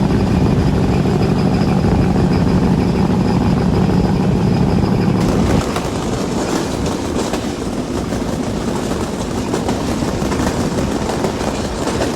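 Bangladesh's Rupsha Express, running between Chuadanga and Khulna, rumbles loudly along the rails, with a steady roar that shifts partway through into a harsher rattling clatter, no voices present.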